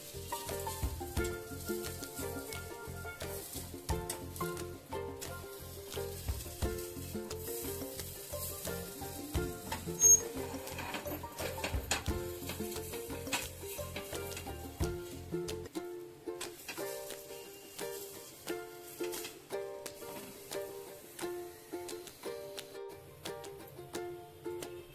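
Gulgule, sweet fritters, fry in oil on a medium gas flame with a steady sizzling crackle and small bubbling pops throughout. The sound stays close and quieter after the middle.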